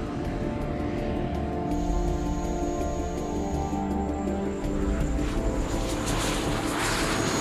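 A steady, loud engine roar with a rising high whine fills the cabin of a Cold War-era jet trainer flying toward an airfield, with no voices heard.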